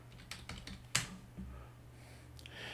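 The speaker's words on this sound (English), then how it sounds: "So I'm just going to type in Netgear." Typing on a computer keyboard, a few quiet scattered key clicks up close with one sharper tap, faint overall.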